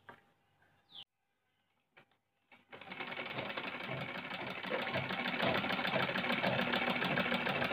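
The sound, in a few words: sewing machine stitching cloth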